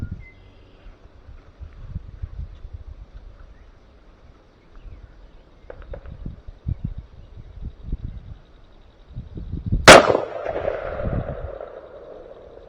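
A single loud rifle shot cracks sharply outdoors while a Pulsar Thermion thermal scope is being zeroed, ringing briefly after quiet, rustling background noise.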